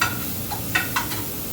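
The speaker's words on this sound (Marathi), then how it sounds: "त्याला हलका हलकासा भाजून घेणार आहे" Momo vegetable filling fries lightly in a pan, a soft steady sizzle broken by a few brief stirring scrapes close by.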